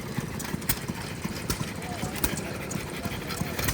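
An old John Deere stationary engine runs on a jack shaft at an antique power show, giving a regular, fairly quiet thumping beat with sharp periodic knocks amid crowd murmur and outdoor background noise.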